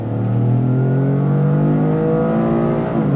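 A 2025 Toyota GR Corolla with an 8-speed automatic accelerating hard, its engine note climbing steadily toward 7,000 RPM in a loud, continuous rising whine heard from inside the car.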